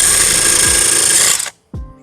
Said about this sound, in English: I think I'm going to try that cutting wheel and my drill